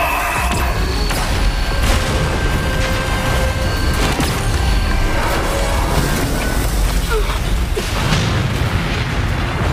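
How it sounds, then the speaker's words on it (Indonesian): A maximum-power laser cannon blast in a film sounds as a dense, continuous barrage of heavy booms and crackling bursts, loud and unbroken for the whole stretch. "akhirnya terciptalah sebuah momen untuk bisa melepaskan meriam laser bertenaga maksimal."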